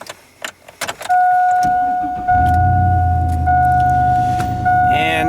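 An old Ford Sierra car engine starts and then idles steadily and loudly, a low rumble with a steady whine on top that runs to the end, alone with no talking.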